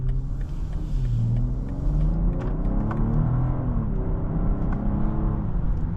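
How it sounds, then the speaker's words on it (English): A 2025 BMW X7 xDrive40i engine hums steadily while driving, with low rumbling harmonics that rise and shift as it accelerates smoothly, continuous and close throughout. "Look at that nice sounding engine."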